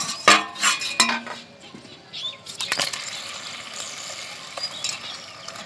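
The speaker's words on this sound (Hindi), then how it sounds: "गुजिया को हम चाशनी में डालेंगे।" Golden-brown fried gujiya being set into sugar syrup in a pan, with sharp metallic clinks and clatters of utensils against the pan early on, then softer scraping and faint bubbling.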